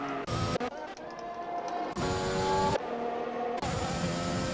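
A Formula 1 race car engine in the F1 2021 game on Xbox, at the Emilia-Romagna circuit, drones loud and steady with shifting pitch and brief cuts as the car heads into a corner.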